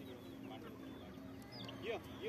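Faint clucking from madrashi lineage chickens on a poultry farm in Shangaon, Chandrapur district, comes in a few short calls over a quiet farmyard background.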